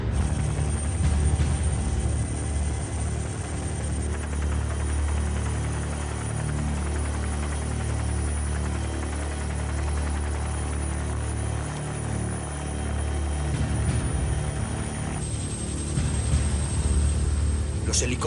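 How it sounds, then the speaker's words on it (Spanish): A helicopter's rotor thumps and engine roar fill the air continuously and close by as it sets down on a hilltop in Colombia, with a voice speaking beneath the din. "Los helicópteros nos posan en lo alto de una colina"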